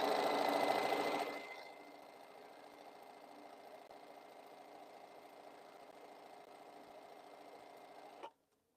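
A sewing machine stitches a quilt seam, running loud and fast for about a second, then settling into a quieter steady mechanical whir before stopping with a small clunk.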